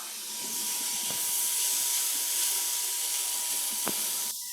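Tomatoes go into a pan of cooking vegetables for a cheese paneer pulao, setting off a loud, steady sizzling hiss that holds throughout, with a couple of brief knocks and an abrupt cutoff at the end.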